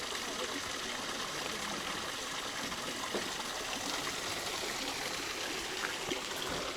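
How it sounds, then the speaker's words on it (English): Water flows steadily and close by in a Kyoto garden, a continuous rushing, trickling stream that stays even throughout with no breaks. "Oh, that water sound does not help my problem right now."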